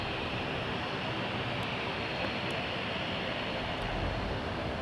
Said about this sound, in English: I'm hearing propellers.